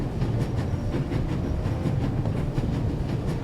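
A train runs at full speed, a loud continuous rumble with rapid rhythmic clatter of wheels over the rails, heard close as if from inside or beside the cars, no talking.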